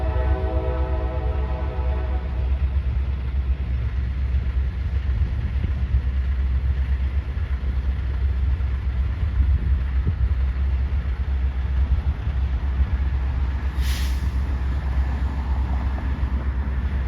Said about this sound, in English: NS 116 rolls south on the NS Sandusky district, making its way towards Columbus with the Dash 9 leader